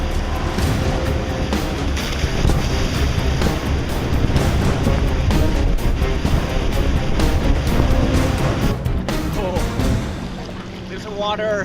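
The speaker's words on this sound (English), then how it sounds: "this is going to be one hell of a swim" Water sloshing and splashing close up in a survival video game as a character swims, with broad rushing noise and a voice talking over it for much of the time.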